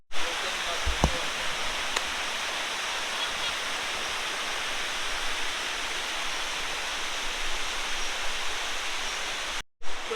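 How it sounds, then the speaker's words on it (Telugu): Elephant Falls in Meghalaya, a small first tier of the falls, roars as a steady, dense wash of falling water that fills the scene evenly for its whole length. "ఇది వచ్చేసి ఫస్ట్ వాటర్ ఫాల్"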